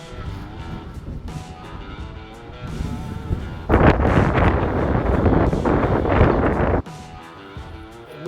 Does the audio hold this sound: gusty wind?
yes